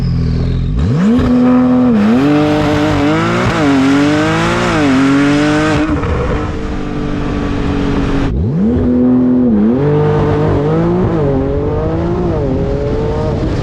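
A Porsche 992 Turbo S launches hard using launch control, its engine screaming up through the gears, each shift audible, lifts off briefly, then accelerates again, loud and close.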